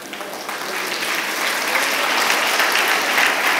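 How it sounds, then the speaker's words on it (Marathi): Steady applause from a church congregation at a Marathi-language Christian sermon, dense and sustained throughout at a constant moderate-loud level with no speech over it. "मी यासाठी टाळ्या वाजवलं की तुम्हाला कळलं की नाही."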